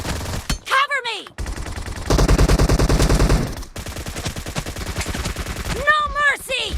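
Suppressed Beryl M762 rifle in PUBG Mobile team deathmatch, firing rapid sustained full-auto bursts of muffled, thudding shots up close, interrupted briefly by other game effects.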